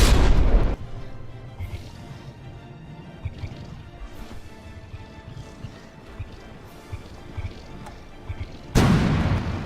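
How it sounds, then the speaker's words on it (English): Heavy HESH shells explode in From the Depths, a naval combat game, as a burst of loud, full-band booms at the start, then a rumbling stretch of scattered hits and debris, and another loud blast right at the end. "Those are probably heavy Hesh rounds."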